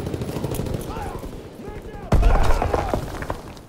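Covering gunfire in Call of Duty WW2 multiplayer, a D-Day assault map: scattered shots under game chatter, then a sudden loud burst of automatic fire with a heavy impact close by.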